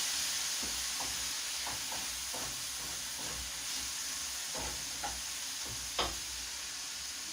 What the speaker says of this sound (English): So we're going to give it a good stir.